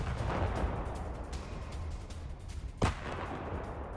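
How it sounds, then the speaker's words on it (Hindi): A Ukrainian self-propelled howitzer fires a single shell, a sharp boom standing out at mid-distance against a steady rumbling outdoor background. "यूक्रेन की हॉट्जियर तोप रूसी फौज पर गोले बरसा रही है।"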